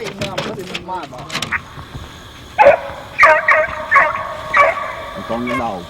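A hunting dog running a fox bays and barks in several loud, drawn-out yelps spread across the clip, with a man calling out over the noise outdoors.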